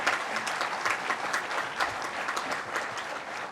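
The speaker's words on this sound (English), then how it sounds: "That deserves a round of applause." Steady, even audience applause at a national monument unveiling ceremony honouring Greek migrants to Australia, a full crowd clapping continuously for a few seconds without speech.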